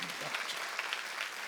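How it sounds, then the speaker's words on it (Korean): A church congregation at a Sunday service claps hands together, a brisk crowd of overlapping claps filling the room for a moment. "박수치고"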